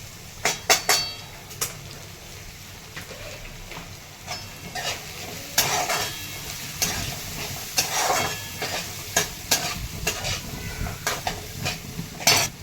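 Onions with curry leaves and turmeric being stirred and sautéed in a pan for Marathi poha, a steady sizzle with repeated scraping and clinking of a spoon against the pan, fairly close and without talk.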